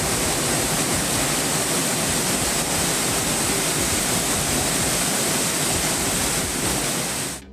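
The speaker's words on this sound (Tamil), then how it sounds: "திருமூர்த்தி மலை பஞ்சலிங்க அருவியில் காட்டாற்று வெள்ளம் ஏற்பட்டுள்ளது" Flash-flood torrent pouring down the Panchalinga waterfall at Thirumoorthy hills, surrounding a temple at the foot of the hill; a dense, roaring rush of water, loud and unbroken throughout, with no voices.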